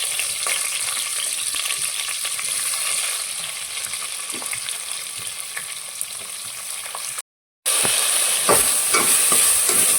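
Onions frying in a pan with cloves and cardamom give a constant close sizzle, with light stirring clinks, a brief cut to silence, then louder crackling.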